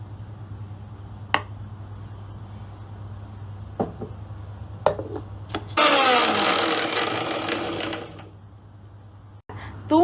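A blender whips garlic sauce of egg white and oil, a short burst of high whirring that starts mid-way and fades after a few seconds, over a constant low hum with scattered clicks and taps before it.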